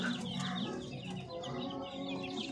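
Chicks kept on a free-range Filipino poultry farm chirp and cluck in a dense, continuous chorus of overlapping peeps, fairly close and steady throughout, with no talking.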